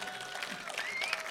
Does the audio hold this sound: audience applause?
yes